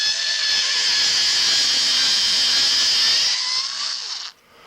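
A Drill Master 4.8 volt cordless drill runs steadily, driving screws with a continuous whining motor hum close by, which strains a little and then cuts off near the end.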